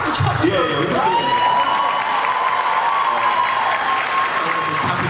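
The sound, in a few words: audience clapping for Chadwick Boseman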